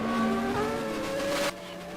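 Race cars at Super Car Sunday, Group C showcase, roaring past close by with a strained, tonal engine whine that holds and then cuts off abruptly, leaving a fainter drone behind.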